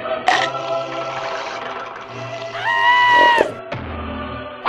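A goat bleats in a comedy about the Lamb of God, giving a long, loud, wavering cry with a short rising call and a final burst, close by with no talk.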